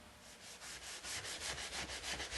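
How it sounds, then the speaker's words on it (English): Fine 320-grit sandpaper rubs over a wooden gunstock in steady back-and-forth strokes, about ten soft, even swishes in a row, quiet and close with no voices. "initially I'm using a 320 grit sandpaper and then we'll finish with the 400 grit"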